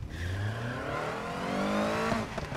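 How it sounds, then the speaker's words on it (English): A supercharged BMW in Need for Speed Heat revs and accelerates, its engine note climbing in rising sweeps with a thin whine riding above, close and steady for a couple of seconds. "we got a bit of a whine going on, because we fitted this out with a supercharger"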